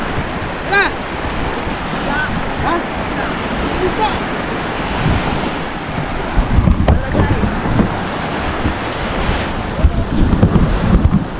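Sea waves and wind at a beach near a river mouth, a steady loud rush of surf with gusty wind buffeting the microphone, growing rougher in the last few seconds, no talk heard.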